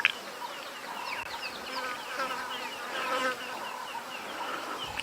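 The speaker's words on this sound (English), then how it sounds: "you can hear the flies buzzing around us" Flies buzzing around people on an early-morning safari drive, a close, busy whirring drone with insects darting past, heard alone over a quiet outdoor background.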